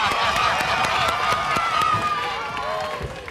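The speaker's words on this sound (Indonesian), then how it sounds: "Ya, tepuk tangan." Studio audience clapping and cheering on the Indonesian TV quiz show Kuis Siapa Berani, a dense continuous round of applause with faint host speech and tones, slowly fading toward the end.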